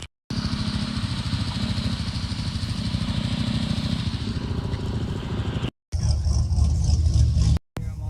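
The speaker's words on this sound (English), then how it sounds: "I'm going to take this thing on one last ride before I tear it down. I got the loud exhaust on it now." Yamaha Raptor ATV with a loud aftermarket exhaust, running hard with a steady, throbbing engine roar close to the microphone, cut by two brief gaps before the revving resumes.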